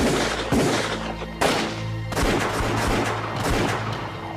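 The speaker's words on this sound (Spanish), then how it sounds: "Recibimos disparos de los guerrilleros. Murieron 2 soldados, así que empezamos a disparar." Gunfire in a firefight between soldiers and guerrillas fighting Che Guevara: several loud, sharp bursts of shots break out one after another, with rumbling echoes between them.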